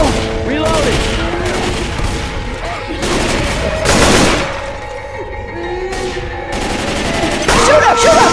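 Dense, loud bursts of automatic gunfire from a Left 4 Dead 2 custom campaign, Cambalache 2, with rapid overlapping shots that barely pause and swell in waves across the clip, with faint voices mixed in.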